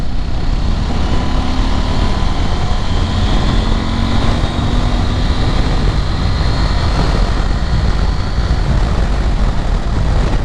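A 2021 KTM 890 Adventure motorcycle accelerates in sixth gear from about 75 km/h, its engine a loud, continuous drone blended with heavy wind rush throughout.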